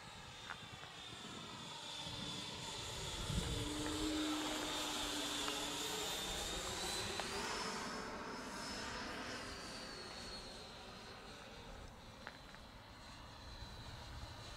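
Radio-controlled Avios MiG-17 model jet fitted with an LED afterburner, landing: a steady turbine whine and rushing airflow that swells and holds, then eases off as it touches down, moderately near with no talk.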